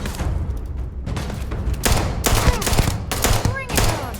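Dense sci-fi gunfire from a Starfield firefight, a loud, nearly continuous barrage of shots and blasts with sharper bursts throughout and voices mixed in.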